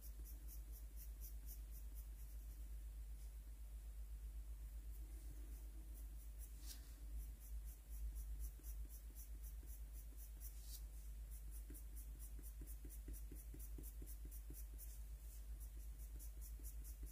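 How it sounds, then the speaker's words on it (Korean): A watercolor pencil scratches softly and continuously across paper while a botanical lisianthus is colored. The sound is faint and close, over a low steady hum. "여기 중간 부분은 양방향선 또는 끝이 흐려지는 선 칠해줍니다."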